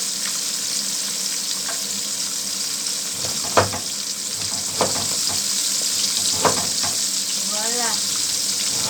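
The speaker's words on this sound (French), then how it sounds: "Je suis en train de faire griller le poisson. Merlu." Hake fish fries in a pan with a loud, constant sizzle close up, punctuated by a few brief clinks and scrapes.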